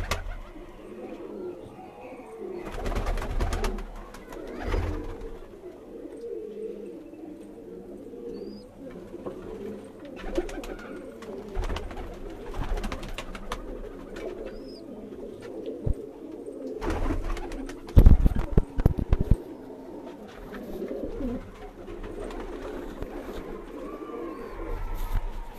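Pigeons, a Sialkoti female paired with a Kamgar male, coo repeatedly in soft rhythmic bursts on a rooftop loft, with flapping, scuffling and outdoor background noise.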